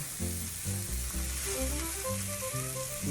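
Mozzarella-stuffed meatballs brown in a pan with a steady, close sizzle, while a loud tonal melody plays over it.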